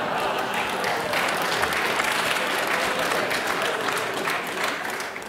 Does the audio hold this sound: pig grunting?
no